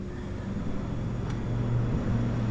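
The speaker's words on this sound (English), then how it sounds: "that sounds like a helicopter. Nope, definitely not. Nope, crop duster. Big old air tractor." A steady engine drone from a low-flying Air Tractor crop duster plane, a continuous rumble holding fairly constant as it passes overhead.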